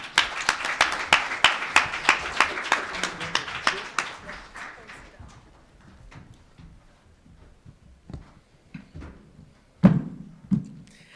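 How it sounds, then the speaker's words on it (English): Scattered clapping from a small conference audience thanking workforce development panel presenters, loud at first then quickly tapering off into faint murmurs, shuffling and a couple of thumps. "I think another round of applause for all of our presenters on the panel"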